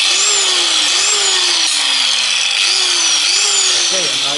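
An electric ax sharpening machine with a sanding system runs with a steady loud whine, its pitch sliding down and back up in repeated cycles, close by.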